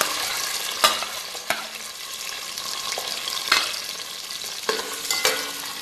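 A large onion fries in a pan of oil with whole garam masala and bay leaves, a close, soft sizzle broken by sharp clicks and scrapes from stirring.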